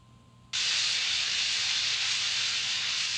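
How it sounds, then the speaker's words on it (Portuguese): Simulated tinnitus sound: a loud, steady broadband hiss like a venting pressure cooker, switching on abruptly after a quiet moment and holding constant to the end. "Parece uma panela de pressão,"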